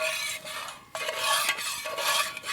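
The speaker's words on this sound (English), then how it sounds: "Gotta stir, stir, stir." Roux stirred steadily in a pan over heat for a trout courtbouillon, a continuous close scraping and swishing texture with a brief dip partway through, no talking.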